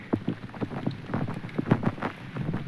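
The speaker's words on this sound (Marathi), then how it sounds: "इतनी बारिश पाऊस खूप पडतोय" Heavy rain falls during a hill trek in the Mandakini hills, with irregular drops tapping close to the microphone over a soft background of wind and rain.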